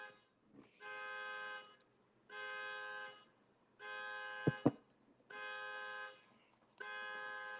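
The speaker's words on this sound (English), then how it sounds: "Someone's car going off." Car alarm going off outside a home, sounding in repeated steady tonal bursts of about a second each with short gaps, moderately loud from a distance, with two sharp thumps in the middle.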